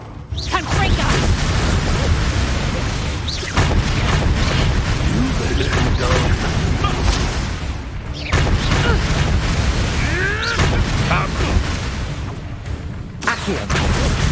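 Fire-spell blasts from Confringo crash out in a hectic Hogwarts Legacy battle, booming bursts and mechanical clatter layered with game music and voices throughout.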